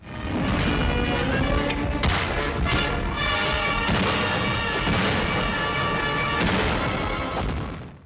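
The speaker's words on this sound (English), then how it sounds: "Combined together, artillery and mortar fire accounted for the majority of casualties" World War II artillery and mortar fire erupts in a dense run of heavy booms and blasts, several explosions crashing close together over a continuous rumbling backdrop with layered tonal sound.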